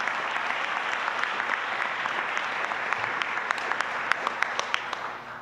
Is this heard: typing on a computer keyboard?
no